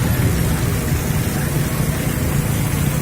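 Heavy monsoon rain pours down steadily in flood-hit Gujarat, a loud, dense, unbroken hiss and rumble with no voices.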